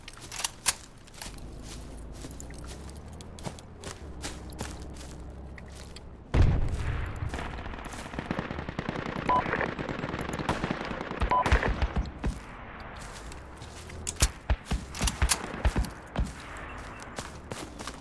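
Gunfire in the military shooter video game Project Reality during a squad hunt near a castle: sharp rifle shots crack at irregular intervals, some near and loud, others distant, amid footsteps and shuffling movement.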